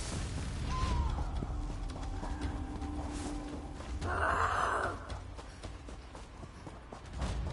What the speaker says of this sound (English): That Spriggan sounds really mad